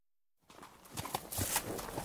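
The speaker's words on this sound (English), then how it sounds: "Look, she's on a horse." Horse hooves clip-clop in a quick, uneven run of hollow knocks that starts abruptly after a short silence and continues steadily, close and fairly clear.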